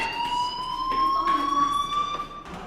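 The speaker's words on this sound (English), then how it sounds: "do you hear that fire alarm?" A fire alarm in the video game Life Is Strange sounds as a loud, continuous electronic tone with a slight warble, steady for the whole short stretch and heard alone.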